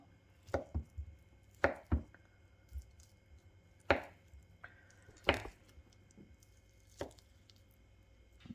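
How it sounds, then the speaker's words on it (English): A knife chops ham on a cutting board in about eight distinct, irregularly spaced thuds, crisp and close in a quiet kitchen. "Can chop up the we can chop up the ham."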